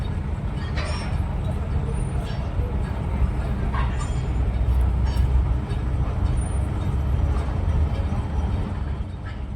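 A train rumbles past near the new Farakka bridge construction site, a loud continuous low roar with clanks and squeals lasting throughout, mixed with faint outdoor noise.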